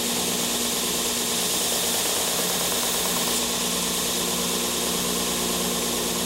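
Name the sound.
edge sander sanding a tight radius on wood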